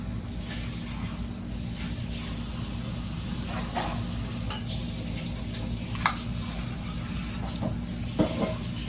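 Palabok sauce sizzles steadily in a pan while a utensil stirs and scrapes, with a few sharper clinks against the metal, close and continuous at low volume.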